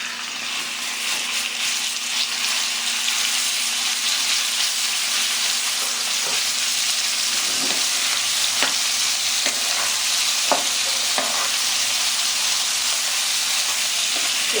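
Chicken pieces fry with crushed garlic in a pan, a constant loud hissing sizzle with a few faint taps of stirring, steady throughout with no talking.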